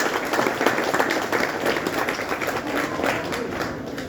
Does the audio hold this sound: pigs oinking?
no